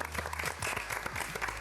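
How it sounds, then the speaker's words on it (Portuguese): Applause from a group of people, a dense steady patter of clapping that continues evenly throughout at moderate level, with no voices. "palmas para todos"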